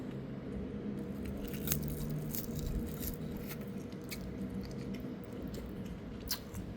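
Someone chews kimchi seaweed along with kimchi-flavored ramen up close, with quiet crunching and wet, squishy bites over a low, steady background, and no talk.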